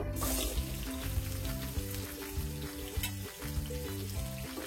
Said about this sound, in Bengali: এখানে হাফ কাপের মতো পেঁয়াজগুলোকে কিছুক্ষণ ভেজে নেব।